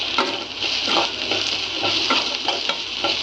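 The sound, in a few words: onions sautéing in a pan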